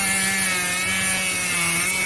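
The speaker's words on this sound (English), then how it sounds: "Look at what he's doing now. Chainsaw." A chainsaw running steadily during a log-stacking stunt, a loud continuous buzzing engine drone with a harsh, gritty edge, close and unbroken, with no talking.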